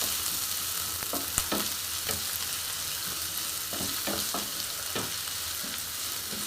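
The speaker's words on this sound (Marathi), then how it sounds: "कांद्याला छान असं भाजून घ्यायचं" Chopped onion frying in a pan for a dry cauliflower dish, a continuous moderate sizzle with occasional clicks and scrapes of stirring, heard alone without any voices.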